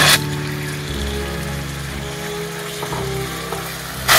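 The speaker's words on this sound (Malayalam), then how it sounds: "ഇഷ്ടമുള്ള മസാല ഇട്ടിട്ട് ചിക്കന് ഒന്ന് കുക്ക് ചെയ്തെടുത്താൽ മതി." Chicken coated in masala frying in a pan for shawarma bread pockets, a loud close sizzle over a steady low hum, with bursts of sputter at the start and end.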